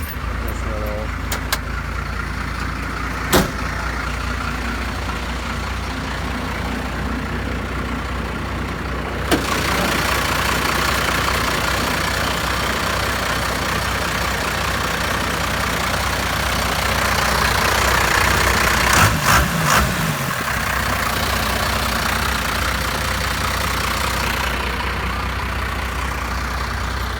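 A 1991 Cummins diesel engine idles with a steady low rumble that holds throughout, while a person talks over it and a few clicks and knocks come through.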